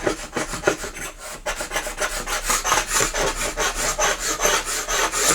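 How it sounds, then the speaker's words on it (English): A glue scraper scrapes dried glue squeeze-out off a wooden French cleat panel in a woodworking shop, producing close, loud rhythmic rasping strokes in quick steady succession with no talking. "Now I just need to clean up the little bit of squeeze out using the glue scraper."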